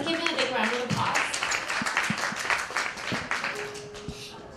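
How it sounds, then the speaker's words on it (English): At a voting campaign kick-off, an audience claps to welcome a speaker, a steady round of applause with individual claps standing out and voices talking over it. "Let's give him a big round of applause."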